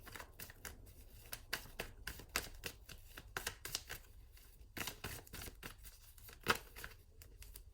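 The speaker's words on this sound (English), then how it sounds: "I will straighten them and I will continue shuffling" Tarot cards being shuffled by hand, a quiet run of soft riffling and tapping bursts in an uneven rhythm, close and faint with no talking.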